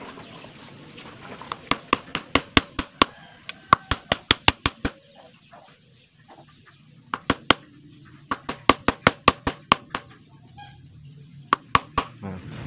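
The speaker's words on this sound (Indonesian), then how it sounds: "Kemudian kita palu perlahan" Light hammer taps seating a motorcycle valve spring into place, struck in quick bursts of sharp metallic clinks, about eight then three then six strikes, close and distinct over a quiet workshop background.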